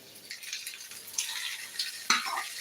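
Hot tempering poured into Kerala-style lentil dal curry, sending up a bright hissing sizzle that rises in waves with a sharper burst of spluttering near the end, close and fairly loud, no voices.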